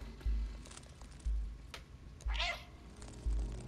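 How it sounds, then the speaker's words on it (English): A cat meows four times at roughly even intervals in the video game Stray, each meow short and clear over quiet ambience, with a brief higher squeal partway through. "So if I meow, to tell me where I gotta go."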